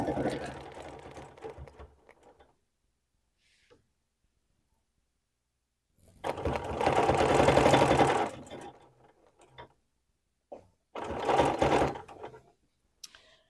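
A quilting machine stitching an edge-to-edge clamshell design with a 2-inch circle ruler hums in two sustained runs separated by quiet pauses, with talk early on and brief mechanical clicks.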